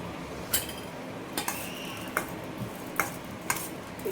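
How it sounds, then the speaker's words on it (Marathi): Broccoli salad topped with sesame seeds is tossed in a bowl, with a handful of sharp spoon-on-dish clicks spaced about every half second over a quiet background. "याच्यावरती आपण थोडीशी तिळ टाकून देऊ तिळीमुळे खूप सुंदर टेस्ट येते याला अशा प्रकारे आणि मिक्स करून घेऊ"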